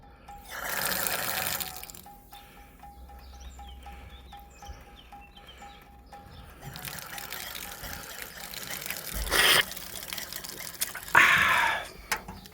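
Red wine and water running from the taps of a pilgrims' wine fountain on the Camino at Los Arcos, splashing outdoors in bursts, with a voice speaking over the flow.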